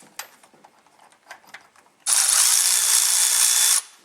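A battery-powered ratchet tool runs in one loud, steady burst of nearly two seconds during work on an M998A1 Humvee restoration, following a stretch of quieter clicks and handling noises.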